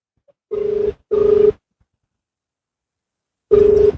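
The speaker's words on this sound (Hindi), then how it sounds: "तो एक बार फिर से कॉल कर रहे हैं हम।" Telephone ringback tone on an outgoing call: three separate steady tonal bursts, the first two close together around half a second each, then a pause before the third, clear and alone with no talk.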